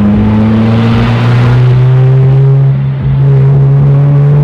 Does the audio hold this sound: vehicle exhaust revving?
yes